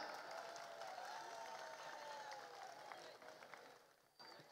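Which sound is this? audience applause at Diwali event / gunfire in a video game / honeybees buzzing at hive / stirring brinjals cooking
audience applause at Diwali event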